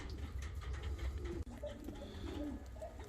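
Fancy costume pigeons, a ready breeding pair, cooing in soft repeated low calls, close and fairly quiet with no talk.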